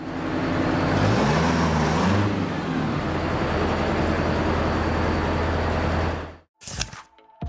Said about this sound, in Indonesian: Terlihat bus tersebut sangat berhati-hati saat ingin masuk ke dalam terowongan.